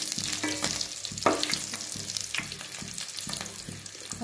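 Green chillies crackle in hot oil in a pan for a Tamil egg curry, a continuous close sizzle punctuated by scraping stirs and small clinks of the spoon.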